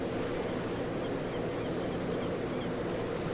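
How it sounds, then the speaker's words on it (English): Ocean surf in the Tower 3D Pro air traffic control game at St. Thomas makes a steady, dense wash of wave noise, even and unbroken throughout; no distinct gull calls stand out. "You can hear the seagulls."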